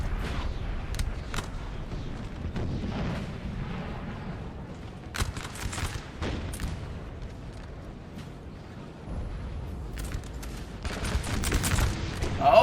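Cannon and musket volleys roar through a Napoleon Total War 4v4 battle at Salamanca, with repeated booming artillery shots and crackling fusillades over a constant din of battlefield rumble, loud and layered with no voices.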